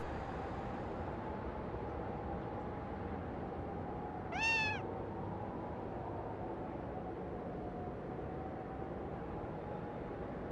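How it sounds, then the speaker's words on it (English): Cat meowing in the No More Heroes video game, a single short rising meow in the middle, clear over a steady hum of background noise. "Stupid cat. This is why I don't like cats."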